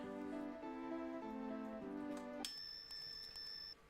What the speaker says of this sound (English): Listen to that bell.